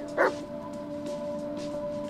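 A dog in the Blair Witch video game gives a short, high whimper near the start, then a sustained low hum continues alone.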